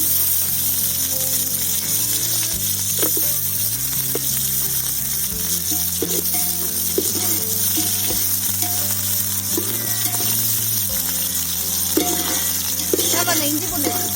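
Onions fry in a pan for sambhar rice, giving a steady, close sizzle that runs the whole time beneath continuous background music.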